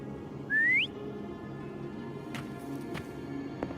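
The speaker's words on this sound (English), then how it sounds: "Try whistling." A short, clear rising whistle called out to summon a companion in the video game Wuthering Waves, loud and close against a soft ambient game background, followed by faint distant clicks.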